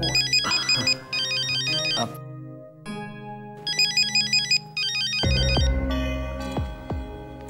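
A phone ringtone plays a bright repeating electronic melody in short bursts, with a few soft clunks and a low hum between the rings.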